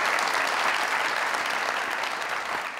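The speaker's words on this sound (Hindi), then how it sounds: "मुंडे ली तालियां मारो।" A studio audience claps loudly and continuously on a Pakistani comedy talk show, a thick burst of applause that fades slightly toward the end.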